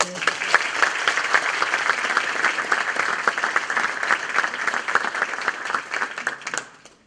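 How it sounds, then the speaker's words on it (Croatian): Audience in a lecture hall applauding to welcome a friar speaker, dense sustained clapping from many hands at steady loudness for several seconds before fading out at the end. "molim da ga pozdravite jednim pljeskom"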